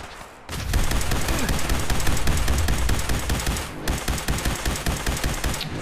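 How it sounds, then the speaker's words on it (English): Sustained automatic gunfire in the video game Fallout 4, a dense, loud rattle of rapid shots that runs almost continuously with one short break partway through. "Stop shooting me."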